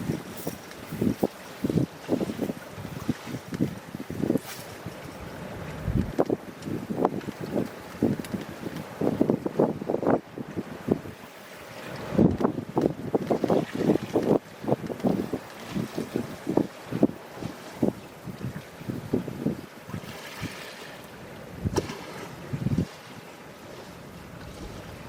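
Strong gusting wind buffets the microphone on a shoreline while a fishing line is cast, giving steady, rough rumbling and flapping throughout with no talking.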